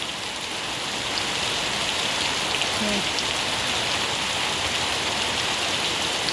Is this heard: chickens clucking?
no